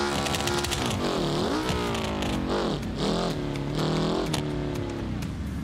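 Revving 2.5-litre twin-turbocharged water-cooled flat-four engine of the Piccolina car in BeamNG, rising and falling through several loud throttle sweeps with gear changes, continuous and close.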